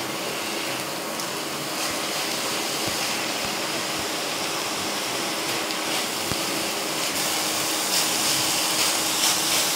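Radish greens (mooli saag) fry in a pan, giving a steady, dense sizzling hiss that runs for about ten seconds with faint clicks of stirring and no talk.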